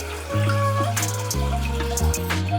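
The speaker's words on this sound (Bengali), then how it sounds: "এখন ডিম সিদ্ধ করব তো তার জন্য জল দিয়ে দিচ্ছি" Water fills a pot in a home kitchen for boiling eggs, a close, steady gushing stream with a ringing, resonant hum that shifts in pitch as the vessel fills, heard alone without speech.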